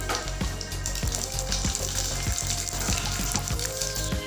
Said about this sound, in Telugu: ఆయిల్ వేడెక్కిన తర్వాత 1/2 టీ స్పూను జీలకర్ర, అలాగే 2 బిర్యానీ ఆకు వేసేసుకోవాలి.